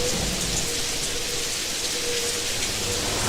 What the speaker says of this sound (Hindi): बाहर बारिश शुरू हो गई थी।